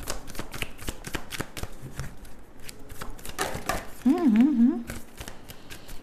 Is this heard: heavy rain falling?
no